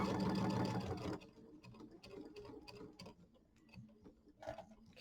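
A home sewing machine runs in a steady whirring burst while stitching a Kimberbell mini quilt, then stops, followed by faint light clicks and handling sounds at close range.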